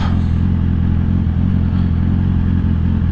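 A motorcycle rumbles steadily while being ridden, its engine drone loud and close, with low throbbing and a clattering mechanical texture and no talking.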